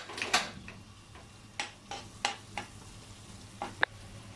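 Washed prawns in a pan on a gas stove give a faint, low sizzle with scattered light ticks and scrapes of stirring, close and quiet, with no voices.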